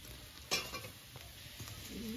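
Chowmein noodles fry in a pan, with a quiet sizzle, a sharp metallic scrape near the start and a few soft stirring clatters.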